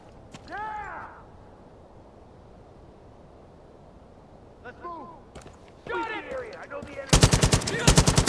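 Far Cry 5 gunfire erupts in short bursts amid shouting voices, ending in a loud, dense rapid-fire machine-gun volley that dominates the final second.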